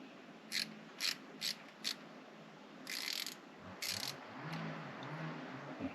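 Screws being loosened on the diesel injection pump of a Mercedes W210 E290 with the OM602 engine: four short, sharp ratcheting clicks, then two longer rasping bursts, close and alone over a low background hum.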